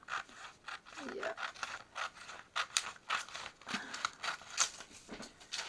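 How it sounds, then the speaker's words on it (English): Quiet, close cutting of heavy junk journal material, a run of short snips and rubbing scrapes in an uneven rhythm, with no one talking. "I'm going to cut it out."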